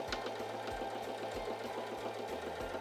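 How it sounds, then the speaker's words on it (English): A Singer 3337 sewing machine sewing a straight stitch, a quiet, steady rhythmic mechanical chatter with regular needle strokes throughout. "I'm going to release the lever and then continue sewing my straight stitch."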